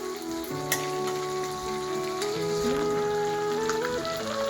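Bhetki fish fat frying in oil, a steady close sizzle running throughout with faint crackles and some tonal hum in the background.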